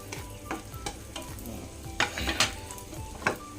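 Nuts and raisins frying in a pan for kheer, a continuous sizzle broken by irregular scrapes and clicks of a spatula stirring, close and moderately loud.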